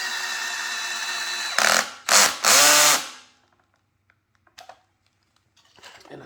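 A power drill whirs steadily while driving a screw into a DIY wooden decor table, then revs in short loud bursts before stopping, leaving quiet handling noises.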